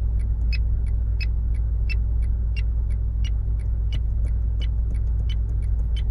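Lada Vesta turn signal indicator clicking with an altered, higher tone: steady, evenly spaced sharp ticks about every 0.7 seconds over a constant low engine idle rumble inside the car.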